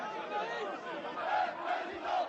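A large crowd cheers and chants on 1 May beneath the Joan of Arc statue, celebrating Jean-Marie Le Pen's electoral success, a dense, sustained roar of many voices with rising swells of shouting.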